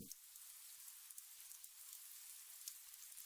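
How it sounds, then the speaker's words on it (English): Rain sound effect in the Fate/Stay Night visual novel: a soft, steady hiss of falling rain with scattered faint droplet ticks, quiet and continuous throughout. "I wake up to the sound of the rain."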